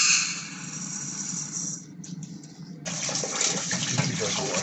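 Rice being rinsed under a running kitchen tap while Jamaican curry goat cooks, a steady close gush of water that briefly drops out near the middle and then returns fuller.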